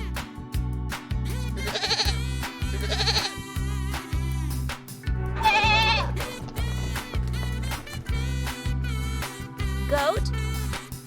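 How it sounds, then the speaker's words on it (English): A goat bleats repeatedly, several wavering cries spaced a second or two apart over a steady pulsing background beat, fairly close and clear. "Goat sound is bleat."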